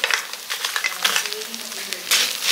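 Ginger and garlic sizzling in hot oil, a bright continuous hiss with brief louder bursts as the pieces are stirred, close and clear.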